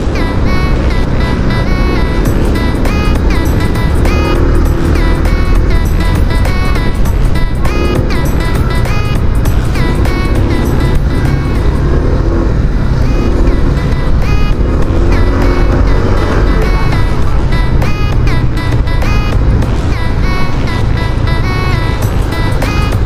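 Honda PCX160 scooter ride recorded on a helmet-mounted external mic, a constant loud roar of wind and engine drone throughout with no clear talk.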